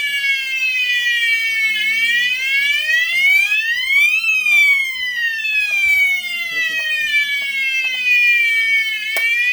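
Asenware fire alarm system sounding during a zone 1 test, a loud continuous electronic siren tone sweeping up and down in pitch throughout, with faint background talk.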